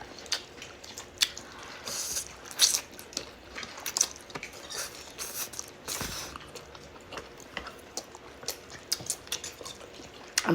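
Someone eats spicy Buldak ramen noodles with crunchy cucumbers at close range, with wet slurps and squishy chewing broken by sharp crisp bites and light clinks of cutlery, all quiet apart from brief louder crunches.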